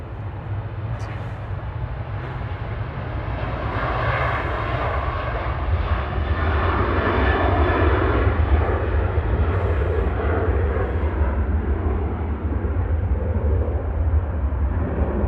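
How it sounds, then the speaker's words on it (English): Jet airliner G-RUKF powers down the runway on its takeoff roll bound for Barcelona, a loud, steady roar of engines with a deep rumble that holds throughout, close and unbroken. "Right now to Barcelona, GRUKF on the roll"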